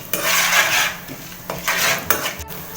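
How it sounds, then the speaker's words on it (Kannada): Mustard seeds, urad dal and chana dal fry in hot oil in a pan, with a hiss under several scraping and clinking stirs of a spoon against metal, close and fairly loud, with no speech. "1/4 ಟೀ ಸ್ಪೂನಷ್ಟು ಸಾಸಿವೆ, 1 ಟೀ ಸ್ಪೂನಷ್ಟು ಉದ್ದಿನಬೇಳೆ, 1 ಟೀ ಸ್ಪೂನಷ್ಟು ಕಡಲೆಬೇಳೆ ಇವೆಲ್ಲವನ್ನು ಚೆನ್ನಾಗಿ ಫ್ರೈ ಮಾಡ್ಕೊಳ್ಳೋಣ."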